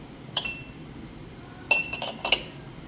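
Glass cups clink as they are handled in a shop, with one sharp ring, then a cluster of three or four bright clinks close together, over a faint background hum with no talk.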